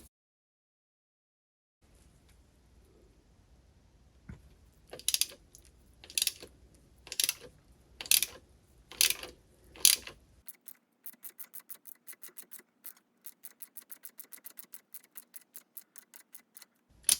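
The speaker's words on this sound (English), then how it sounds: "we are going to grab a 6mm bit and carefully unscrew both of those 6mm bolts" Ratchet clicking while 6mm bolts are unscrewed on a Sea Doo GTX 951DI jet ski engine: first a series of slower, louder turns, then a long run of fast, even, lighter clicks, close up with no talking.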